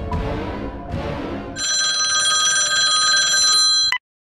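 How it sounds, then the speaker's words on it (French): A telephone rings loudly with an incoming call, a bright continuous electronic bell trill lasting about two seconds and cut off abruptly, following a brief stretch of background music. "Dans quelques secondes, tu vas recevoir un appel de ta femme."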